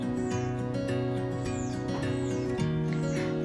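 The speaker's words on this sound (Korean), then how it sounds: "새소리가 좋은 아침이네요" Birds singing on a morning near a houseplant, with repeated bright chirps and descending calls in a steady rhythm over a sustained tonal background at moderate volume.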